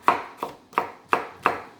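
A knife julienne-cuts vegetables on a cutting board in five sharp, evenly spaced strokes, close and crisp, with no talking.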